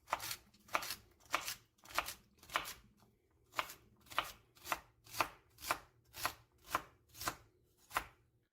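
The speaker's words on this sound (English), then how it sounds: "Just rock your knife. You don't have to go fast." A knife chops celery on a cutting board in about fourteen crisp, evenly spaced cuts at an unhurried, steady pace, close and clear with no voices.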